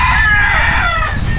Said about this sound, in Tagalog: Yan ang mga manok ko daan.